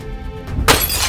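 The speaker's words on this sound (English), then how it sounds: "Strike the glass where it's weakest, near one of the bottom corners. It may take several strikes." Window glass struck with a fire extinguisher, a single loud sharp crash as the pane breaks and bright shattering spreads out, close and alone.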